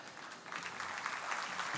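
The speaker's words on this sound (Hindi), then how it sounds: "आप सबकी ज़ोरदार तालियों के साथ प्रियंका मित्रा" An audience at a live musical evening gives a steady burst of applause, a dense wash of clapping that holds at an even level throughout the short stretch.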